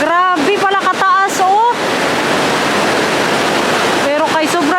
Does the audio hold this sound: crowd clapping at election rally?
no